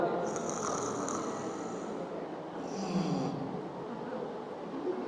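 A voice imitating snoring, rough rasping breaths repeated over several seconds in a continuous, fairly loud rattle, as heard from a dying person at rest.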